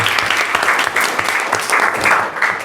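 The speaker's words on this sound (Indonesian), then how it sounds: "Beri tepuk tangan dulu untuk Reisha." A classroom group claps in a sustained round of applause during a lesson, dense and fairly loud, with irregular surges of hand claps and faint voices mixed in.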